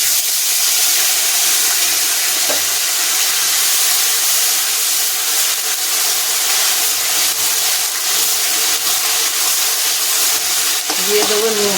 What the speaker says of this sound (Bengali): এবার দেবো আমি পেঁয়াজ বাটা।